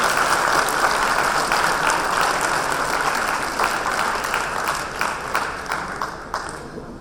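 A seated audience at a celebrity fireside event claps steadily for several seconds, a dense and even wash of applause that fades slightly toward the end.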